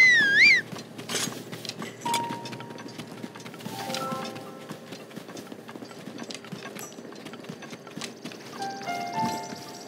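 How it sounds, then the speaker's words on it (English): Hooves clip-clop steadily as a horse approaches in a Legend of Zelda video game, a continuous trotting rhythm under game music and effects. "My horsey's coming to see me."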